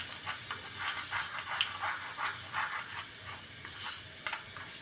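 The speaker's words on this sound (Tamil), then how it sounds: "கொஞ்சமாக பெருங்காயத்தூளும் கொஞ்சோண்டு கருவேப்பிலை அப்படி போட்டுட்டு இப்படி வதக்கினா மணமாக இருக்கும்" Asafoetida and curry leaves sautéing in hot oil for a peanut chutney tempering give a steady close sizzle with soft crackles and stirring rattles throughout.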